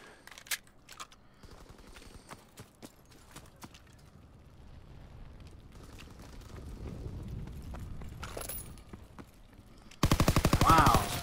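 Rapid automatic gunfire from a gun in a ranked-match video game, loud bursts of fast repeated shots at the very end after a quieter stretch of scattered in-game rumble and movement.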